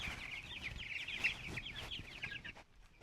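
A flock of about a hundred chickens out on grass clucks and chatters continuously, a dense, busy layer of soft overlapping calls at moderate distance with no talk.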